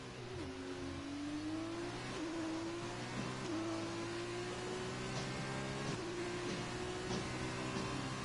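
F2 race car engines at Suzuka in a racing video game, a high engine drone held flat out with steady pitch, gear-shift steps and slight pitch dips, continuous and fairly distant, without speech.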